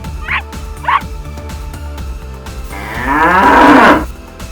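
A loud, drawn-out moo from a Jallikattu bull rises near the end, preceded by two short dog barks over a low rhythmic background.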